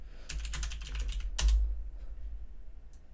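Someone types a command on a computer keyboard, a quick close run of key clicks ending in one heavier keystroke, then quiet.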